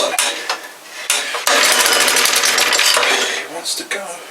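A 1967/68 Suffolk Super Punch lawnmower engine cranks and sputters as it tries to start, with a sustained louder burst of rough running in the middle, then clattering and fading, close by.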